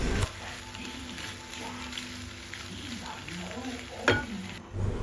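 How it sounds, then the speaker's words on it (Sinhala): A spoon stirs pasta through a spicy tomato sauce in a hot pan, a steady close sizzle with soft scraping and occasional clinks, and a brief louder clatter near the end. "මේ විදිහට එකතු කරලා හොඳින් හැන්දෙන් කලවම් කරගන්න."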